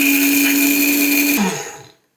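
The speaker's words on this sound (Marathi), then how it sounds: "साबुदाणा घ्यायचा आणि मिक्सरमध्ये छान फिरवून त्याचं पूड तयार करायचे" A mixer grinder whirs loudly and steadily as it grinds sago (sabudana) into a fine powder, then winds down and stops, leaving brief silence before a sharp click at the end.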